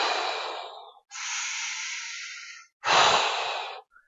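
A person imitates Kussmaul breathing, a medical breathing pattern, with three long, deep, audible breaths, inhaling and exhaling with short pauses between, close and fairly loud.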